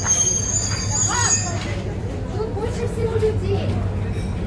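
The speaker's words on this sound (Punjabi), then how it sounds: "786 ਨੰਬਰ ਟ੍ਰੇਨ ਆ ਗਈ ਜੀ" A train rumbles in at a busy station, a steady low drone with a brief metallic squeal and crowd chatter around it.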